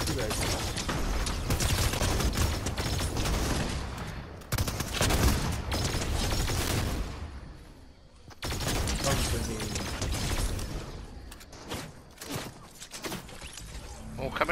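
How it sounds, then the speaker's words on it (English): Dense bursts of hip-fired gunshots in Fortnite crackle in loud clusters, break off briefly and start again, with a voice talking over part of the shooting. "I'm just hip firing these lot."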